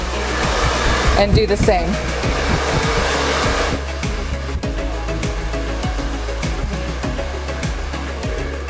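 Hair dryer on a cool setting blowing steadily at close range while a pixie bob is styled and lifted at the crown, loud and continuous, with a brief spoken phrase early on.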